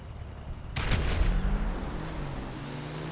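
A single heavy grenade blast in GTA V erupts suddenly after a quiet moment, a deep booming burst whose rumble lingers and slowly fades.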